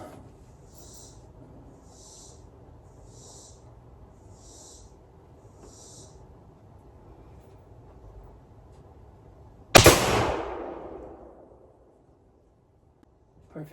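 A single loud gunshot at an outdoor ranch target, sharp and close with a ringing decay, following a stretch of quiet background with a few faint repeated chirps.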